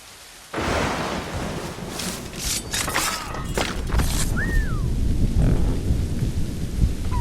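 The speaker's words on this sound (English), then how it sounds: "The storm's getting worse." Thunderstorm with rain in the Assassin's Creed Rogue video game: a loud thunder rumble and crash kick in after a quiet start, then steady heavy rain continues throughout, no talking.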